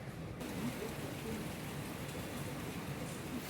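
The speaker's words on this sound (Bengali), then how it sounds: "বৃষ্টি পড়া শুরু হয়ে গেছে এই দেখো" Steady monsoon rain falls outdoors near a house with a rooftop where water is collecting. It makes an even, unbroken hiss of downpour that continues throughout, with no voices over it.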